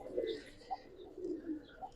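A pair of pigeons gives soft, low, repeated coos in short phrases, fairly faint and close, with no other sound around them.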